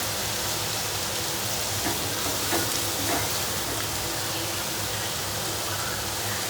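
Shallots sautéing in a pan for a Kerala fish masala, a loud unbroken sizzle with faint scraping stirs near the middle.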